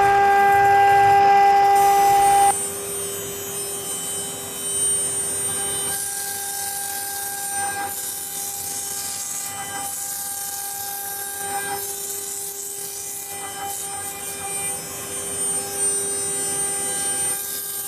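A very large CNC machine engraving, with a steady high mechanical whine and a continuous hum carrying sharp tonal lines, loud and close throughout, with small shifts in pitch as the tool moves.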